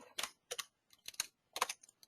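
A computer keyboard is typed on in short clustered bursts of sharp key clicks, close and clear, separated by brief quiet pauses.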